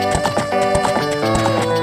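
Horse in Zelda Ocarina of Time, rhythmic clip-clop hooves at a steady trot with a neigh mixed in over game music, loud and close.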